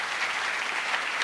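A crowd claps steadily in a dense, continuous burst of applause.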